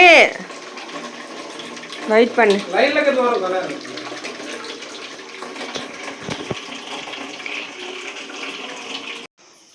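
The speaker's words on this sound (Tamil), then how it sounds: "ஆனால் இருக்கிற தண்ணியெல்லாம் வருது டேப்லேருந்து வருது" Water runs from a household tap in a steady gushing stream under a brief spoken exchange, with a short burst of splashing near the start, close and fairly loud before cutting off abruptly.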